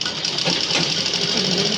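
A sewing machine runs steadily as it stitches a fabric strip, a close, continuous rapid clatter with a whirring motor tone and no pauses.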